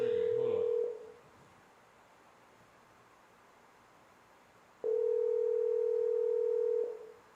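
A phone call's ringing tone sounds in two clear, steady electronic bursts separated by a few seconds of quiet line hiss.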